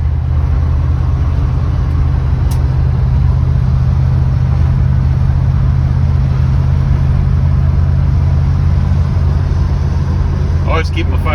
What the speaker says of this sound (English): Running car.